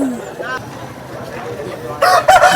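At a Vijayawada rooster market, roosters crow near and loud in the final half second, after quieter clucks and background market bustle.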